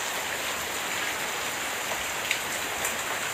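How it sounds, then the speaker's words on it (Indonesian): Steady rain falls outside a house in Kebumen, a dense even hiss of drops on surfaces with a few faint individual plinks, constant throughout with no talk. "Hujan guys. Nah, bisa di depan rumah"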